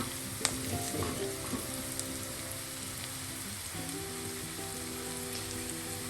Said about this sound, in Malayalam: ഈ സമയം നമുക്ക് സൈഡിലോട്ട് മാറ്റിയിട്ട് പൊടികളെല്ലാം ചേർത്ത് ഓയിലൊന്ന് മിക്സ് ചെയ്യാം.